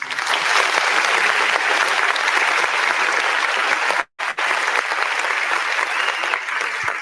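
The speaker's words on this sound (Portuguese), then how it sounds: "tá dando os aplausos pro Gabriel Brazão" Stadium crowd applauding a goalkeeper after a Ponte Preta versus Santos football match, loud sustained clapping from many people that cuts out briefly partway and then resumes at full strength.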